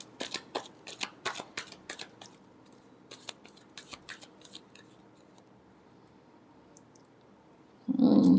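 Tarot cards shuffled by hand in a quiet room, a quick run of crisp riffling snaps in the first few seconds, then sparser soft flicks and a pause before a louder burst at the end.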